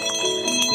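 A school bell at a 1950s countryside boarding school rings loudly and close in a quick run of bright, metallic strikes that overlap into a sustained ringing tone.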